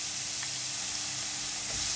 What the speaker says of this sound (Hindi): इसको सिर्फ ट्रांसल्यूसेंट होने तक ही करना है, इसको कुछ ब्राउन नहीं करना है, नथिंग लाइक दैट। इसके साथ ही हम लोग डाल देंगे इसमें जीरा